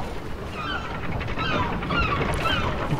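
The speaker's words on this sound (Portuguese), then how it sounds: "O canto das gaivotas." Seagulls call in the Kingdom Hearts III game, their honking cries repeating every second or so over a steady ambient bed, moderately distant and fairly soft.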